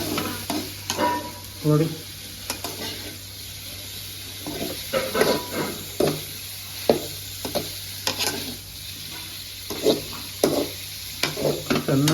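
Paneer sizzling in a pan with turmeric while a spoon stirs it, giving soft frying hiss with repeated scraping and clinking strokes close by, a single brief spoken word in the mix.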